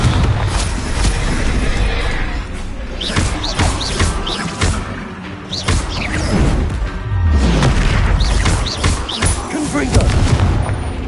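Repeated Confringo blasting-spell explosions in Hogwarts Legacy combat, a series of loud booming bursts and crashes spread across the clip amid chaotic battle noise, with shouted voices in between.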